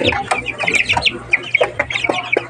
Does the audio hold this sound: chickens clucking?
yes